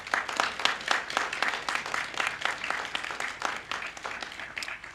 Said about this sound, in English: Please extend another round of applause